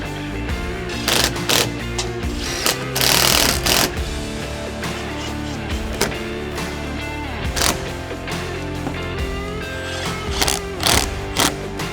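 Ratchet turning a nut onto a Kawasaki Teryx KRX windshield clamp: rapid bursts of clicking ratchet strokes in short runs with pauses, close and fairly loud, over a steady mechanical background.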